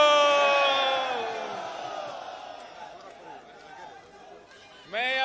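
Crowd at a Pakistan Peoples Party rally in Gujranwala roaring a slogan for Bhutto, loud massed voices swelling then fading into murmur, with a fresh burst of shouting near the end.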